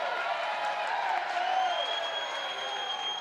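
Home crowd at a college softball game at Davis Diamond, Texas A&M against Mississippi State, makes a steady, broad wash of cheering and applause. The noise stays fairly even and sounds close to the listener the whole time.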